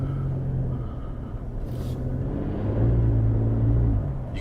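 A Ford F-150 Raptor pickup, with its artificial engine sound piped into the cab switched off, reverses slowly from its spot. A steady low engine rumble sits close by and swells slightly partway through, with no talking.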